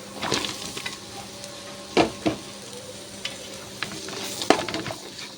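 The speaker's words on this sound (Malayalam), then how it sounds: "നമ്മൾ കൊത്തി അരിഞ്ഞ് വെച്ചിരിക്കുന്ന സവാള ചേർത്ത് കൊടുക്കാം" Finely chopped onions frying in a pan for chicken biryani give a low, steady sizzle close by, broken by a few sharp clanks and scrapes of a spoon stirring against the pan.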